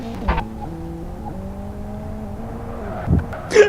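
A race car in the Live for Speed video game roars through gear changes, with its engine pitch climbing and dropping and brief tire squeals and bumps, and no talking.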